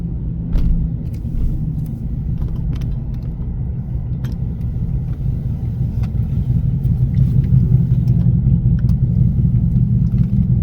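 A steady low engine rumble from a motorcycle revving nearby, growing slightly louder toward the end, with a few faint clicks on top.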